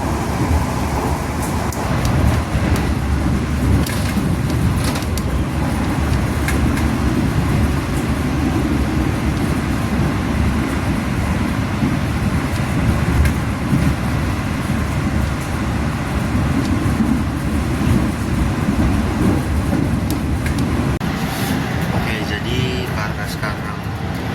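KA Tegal Bahari economy-class train, made up of former business-class carriages, rolling along the rails at a moderate pace, a steady dense rumble and rattle that fills the whole stretch without letting up.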